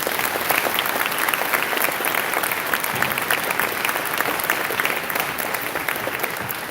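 An audience at a Veterans Day school assembly gives sustained applause, a dense, even clatter of many hands in a large room, steady and moderately loud throughout with no speech over it.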